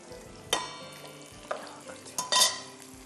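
Onions pushed and stirred around a frying pan with a spoon, a few distinct scraping strokes over a low background sizzle, close and fairly quiet with no voices.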